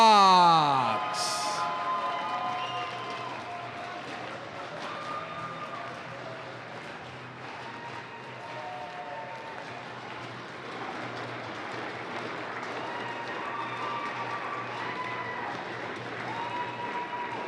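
A stadium crowd at a table tennis league match cheers and applauds for the Florida Crocs, a steady roar with music tones continuing throughout.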